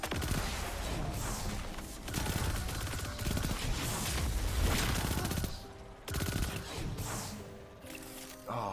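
Rapid weapon fire in Destiny 2 erupts as dense, sustained bursts of shots, broken by brief pauses and a short reload gap, loud and continuous throughout with faint game effects underneath.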